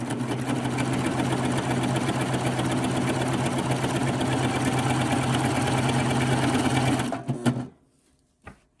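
A sewing machine runs fast and steady, stitching Velcro onto fabric leaders for a longarm quilting frame, a loud close whirring drone that stops abruptly near the end, leaving a few soft clicks.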